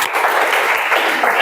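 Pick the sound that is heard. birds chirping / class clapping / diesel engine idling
class clapping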